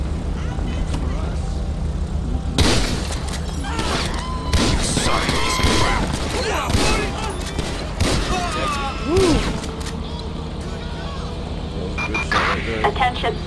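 Video game gunfire, with shotgun blasts among it, crashes out in a chaotic firefight: sharp loud bangs in irregular bursts mixed with impacts and engine rumble, while voices talk over much of it.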